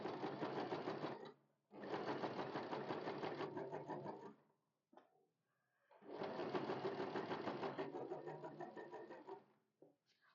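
A sewing machine stitches the lining into a blouse with four tucks, running in three loud, close bursts of rapid rhythmic whirring separated by short pauses.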